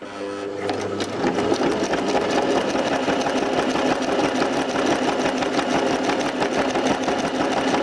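A sewing machine stitches a winter tarp with a zigzag stitch, running loud and close in a fast, steady mechanical whir that starts after a brief pause and holds constant throughout.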